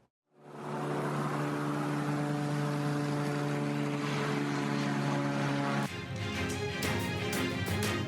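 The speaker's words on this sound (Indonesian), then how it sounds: "Warga merekam sebuah pesawat melintasi langit Israel." A propeller airplane drones steadily and loudly overhead in the sky over Israel, its engine hum holding for several seconds before the tone shifts abruptly near the end.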